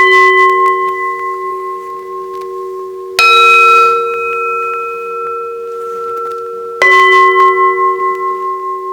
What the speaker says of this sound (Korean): 지금 울리는 이 종소리와 같이